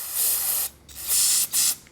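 Cleaner sprays from a can through a dirt bike carburetor's main jet in two long, loud hissing bursts, separated by a short pause and followed by a brief third blast.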